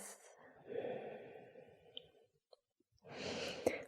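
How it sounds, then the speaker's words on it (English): Slow, deep yoga breathing on a mat during a vinyasa flow: a long, soft exhale fades into near silence, then another breath begins, all quiet and close. "Deepen your breath."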